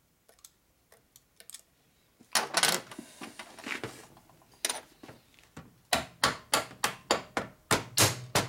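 Hammer blows on a part during the transmission rebuild of a 1942 Harley-Davidson 45ci WLA flathead, starting as light scattered taps, then a cluster of heavier strikes and finally a rapid, even run of loud, close impacts.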